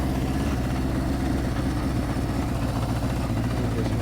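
A 1978 Honda CB550K motorcycle engine idles steadily, a continuous low, throbbing rumble with no talking.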